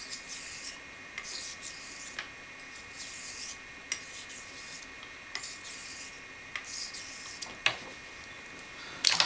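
A straight razor is stroked back and forth across a honing stone, giving soft, steady rasping strokes in a regular rhythm, close and fairly quiet, with a few sharper clicks between passes.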